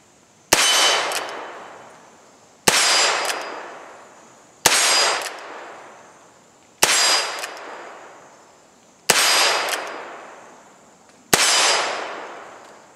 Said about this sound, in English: All right, let's shoot these 6.